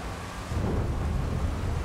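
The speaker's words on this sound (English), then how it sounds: "Man, that thunder is so loud." Thunder rumbles through a storm in the video game GTA V, a low, steady roll of noise that swells partway through and carries on without any talk.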